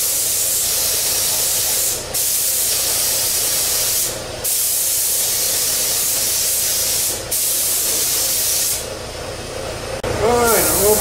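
A spray gun lays paint over a car's motor compartment in a steady, loud hiss, running in long bursts with brief pauses between passes.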